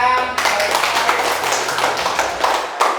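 Clapping rises from a group of school students at an anti-bullying campaign event, brisk overlapping hand claps held for a few seconds after a brief voice, fairly close and loud.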